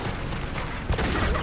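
Pistol fire in the video game Mass Effect 2 comes as a dense rattling burst of shots with booming low thuds, a sharper report near the end, loud and close.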